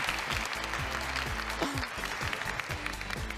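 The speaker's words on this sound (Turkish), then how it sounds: "Alkışlarla Arıcan'ın yerini alıyoruz." A studio audience claps steadily and loudly throughout, with a brief voice cutting through.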